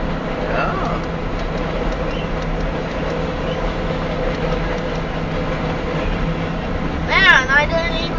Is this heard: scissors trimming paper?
no